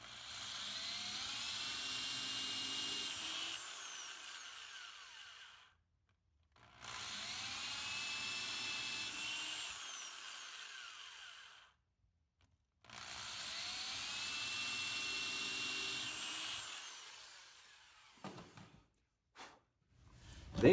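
A power drill whirs through wood in three long bursts of about five seconds each, drilling out marked holes for saloon door hinges, with short pauses between, followed by a few brief clicks.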